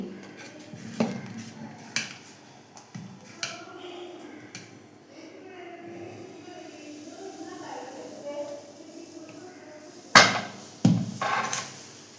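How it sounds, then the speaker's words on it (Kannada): A masala dosa is scraped and lifted off a hot tawa over medium flame, giving close metallic scrapes and clinks of a spatula against the griddle, a few sharper knocks near the end, and a voice talking over parts of it. "ಈಗ ದೋಸೆ ತೆಗಿತಾ ಇದ್ದೇನೆ"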